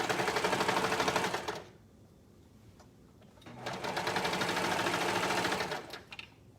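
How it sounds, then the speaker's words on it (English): A serger stitches elastic onto two layers of lined swimsuit fabric in rapid, even mechanical bursts: a loud run of about a second and a half, a pause with faint handling clicks, then a longer second run that slows and stops. "we're going to sew this on with the serger, stretching the elastic and making sure that I'm catching the 2 layers of fabric"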